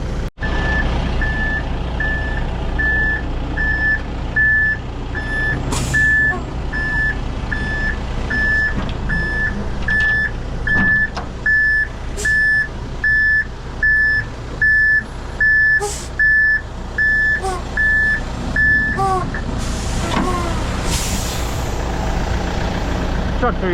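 A truck reversing with a steady run of evenly spaced backup beeps over a rumbling engine, with air brake hisses and other truck noise nearby before the beeping stops near the end.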